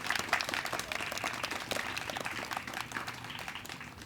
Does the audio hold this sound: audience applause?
yes